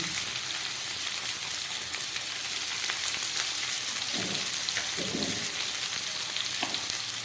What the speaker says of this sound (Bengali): আলু আর কুমড়োটা একটু ভাজা হয়ে গেল।